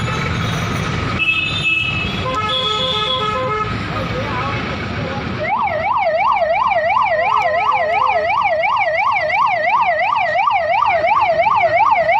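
An ambulance siren wails in a loud, close, rising-and-falling cycle, preceded by mixed street noise and horn tones, with voices talking around it.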